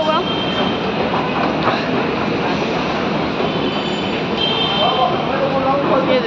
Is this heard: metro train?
yes